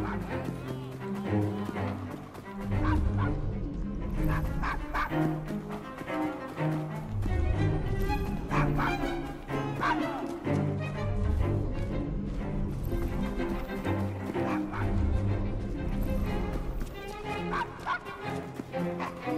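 A dog barks and yips in the Victorian London streets of Assassin's Creed, mixed with game music, horse hooves clip-clopping and character voices talking throughout.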